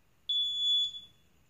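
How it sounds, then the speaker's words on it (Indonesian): Door notification buzzer giving a single sustained high-pitched electronic beep of under a second, clear and close against a quiet background. "Jadi saat pintu dibuka, maka buzzer akan berbunyi beep."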